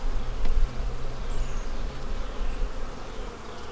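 Honeybees buzz densely and close up while hive frames are moved into a bee barn, a continuous swarm drone with individual bees passing by.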